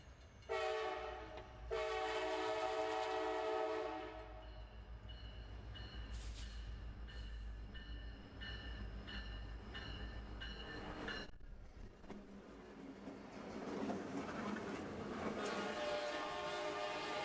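A CSX freight train horn sounds, then a long, steady rumble of train cars rolling past, heard from a distance, with brief horn notes again midway.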